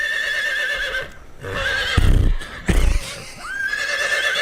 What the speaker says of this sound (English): That's the whole horse snort.